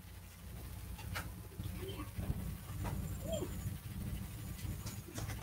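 A dog panting indoors near the microphone, quick breathy puffs in an irregular rhythm mixed with small whimpers and shuffling, while faint background sounds come and go.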